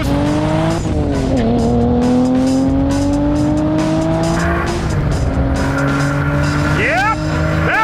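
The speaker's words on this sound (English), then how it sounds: "this thing needs drag radials or something. Just has so much wheel hop." A cheap sports car launches hard with little traction. Loud tire squeal and a rising, hopping engine note ring out up close for several seconds while people talk over it.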